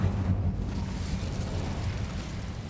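A fire spell bursts in Hogwarts Legacy, a soft rushing whoosh of flame that roars briefly and then fades into a low, steady rumble, heard alone without talk.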